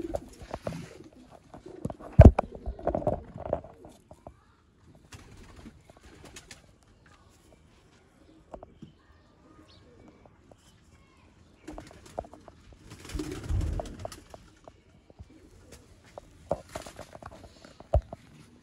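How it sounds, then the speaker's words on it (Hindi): Dakoo pigeons, a prized breeding pair, coo in soft low bursts scattered through the stretch, with quiet gaps and faint rustling between calls. "अब वाले डाकू कबूतर है माशाल्लाह, बड़ा लाजवाब जोड़ा"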